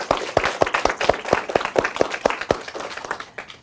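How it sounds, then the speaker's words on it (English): An audience at an elementary-school academic quiz competition claps for several seconds in crisp, fairly regular individual claps, moderately close and sparse, like a small group. "Let's hear a big round of applause for yourself."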